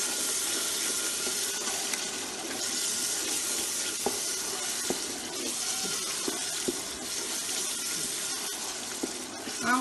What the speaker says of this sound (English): I'm adding the stock.